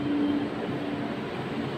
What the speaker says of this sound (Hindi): ये मेट्रो वैसे ड्राइवरलेस है, ऑटोमेटिक चलते हैं